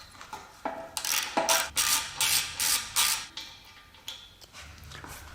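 A ratchet works an 8mm hex bolt off a bracket on a Jaguar S-Type's ZF 6HP26 transmission, giving a series of close, sharp clicking bursts in an uneven rhythm, each followed by short metallic creaks.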